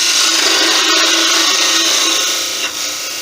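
Skew chisel cutting wood on a lathe gives a steady, close, bright shearing hiss with a faint spinning rumble underneath, holding evenly for about three seconds before easing off slightly at the end.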